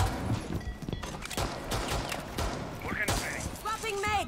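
Gunfire in a Rainbow Six Siege match with the Brava operator, a string of sharp shots and thuds spread through the moment, mixed with footsteps and game effects while a player talks over it.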